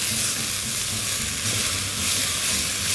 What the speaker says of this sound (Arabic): بنكرمل الخضار على نار عاليه